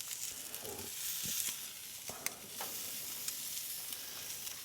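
Tomahawk ribeye steak sizzling on a Frontgate gas grill, a steady close crackling hiss broken by a few sharp pops and brief scraping as the meat is flipped.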